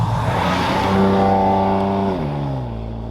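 A BMW M2, a rear-wheel-drive car, revs its engine while driving in snow, a loud, close, harmonic drone that climbs and then drops in pitch as it shifts, with no speech.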